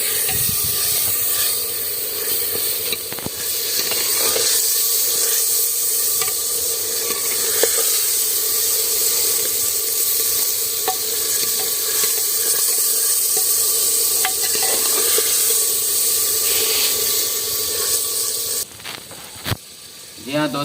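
Tadka for a carrot, potato and pea curry sizzles in a pan in a village kitchen. A close, steady hiss of frying runs throughout, with a few scattered stirring clicks and a sudden change near the end.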